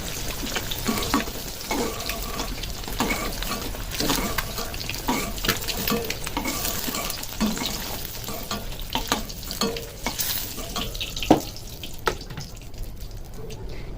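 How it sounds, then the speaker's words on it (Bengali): Eggs browning in hot oil for a Bengali mustard egg curry, a steady close sizzle with frequent clinks and scrapes of stirring. "ডিমগুলোকে একটু লাল লাল করে ভেজে নেব, একটু ব্রাউন করে ভেজে নেবো ডিমগুলোকে।"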